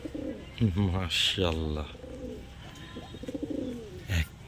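Pigeons from a breeder's stock of Pakistani fancy breeds coo in deep, throaty rolling phrases close by, while someone talks over and between the calls.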